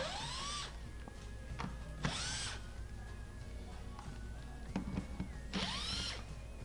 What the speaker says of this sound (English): we're going to go ahead and remove the two 1/4 screws that are holding the frame